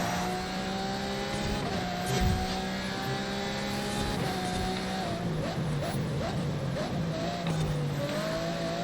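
Race car lapping in Forza Horizon 5, a close, loud engine whine with repeated upshifts and revving, tyres squealing as it corners, while a voice talks faintly underneath.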